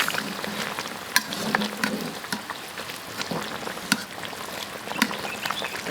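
Beef trotters stewing in a pot with oyster sauce and dark soy sauce bubble and sizzle steadily, with scattered sharp pops and crackles over a continuous simmer, close and moderately loud.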